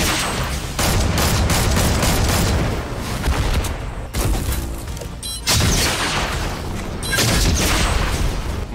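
Rapid, loud explosive blasts from a Fortnite rocket launcher and surrounding gunfire come in dense bursts with brief gaps between them, dominating the scene without speech.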